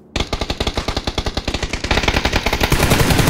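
Loud, close automatic gunfire in the video game PUBG, a fast unbroken string of about thirty shots that blur into a dense roar toward the end, with no voices.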